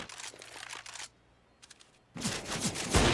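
Rapid rifle spray from CS:GO gunfire on the Train map, a dense burst of crackling shots, then a short quiet gap with a few faint pops before a louder, closer volley resumes.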